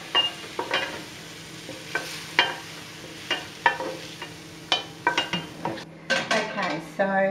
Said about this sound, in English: I'm just going to take that off the heat and put that into a bowl